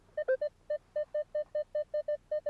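A Minelab X-Terra Pro metal detector beeps about a dozen times in quick, fairly even succession during a coin hunt in a field, each tone short, clear and close.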